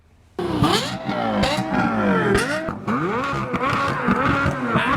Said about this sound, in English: maybe we should do Z06 versus LFA rev off